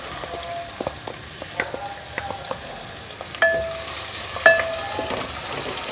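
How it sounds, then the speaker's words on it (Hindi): Onions frying in hot oil with whole spices, a steady crackling sizzle with scattered pops and a couple of sharper spatters, close and moderately loud with no talking. "तो प्याज को आपने अच्छे से फ्राई करना है"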